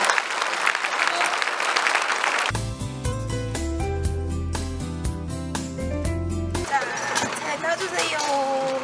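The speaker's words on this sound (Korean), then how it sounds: "우리 형제 자매들을 박수로 좀 격려해 주시면" An audience applauds to encourage North Korean defectors, with steady clapping at the start and end, while music with a clear melody and beat plays loudly in the middle section.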